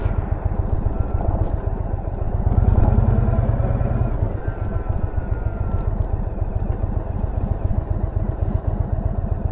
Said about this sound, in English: Today we're test riding the Indian Sport Chief.